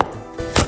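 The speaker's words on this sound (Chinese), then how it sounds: "再切点姜蒜末" A kitchen knife chops ginger and garlic into mince on a cutting board. Two quick, crisp knocks sound close and clear with no voices.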